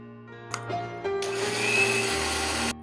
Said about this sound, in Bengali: এবার এগুলোকে মিশিয়ে নেব মিক্সচারে খুব মিহি করে পেস্ট বানাবো